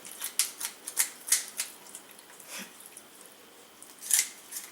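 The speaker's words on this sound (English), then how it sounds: "So you're going to snip where the skin is." Kitchen scissors snip through chicken skin to cut off a thigh, a series of crisp close snips in a quick cluster, then a pause before a final few cuts, no talk.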